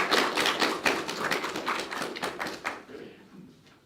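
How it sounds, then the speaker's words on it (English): A student government debate audience applauds a candidate named Alex, a brief burst of clapping from a modest crowd that fades out within about three seconds. "Please give a round of applause for Alex"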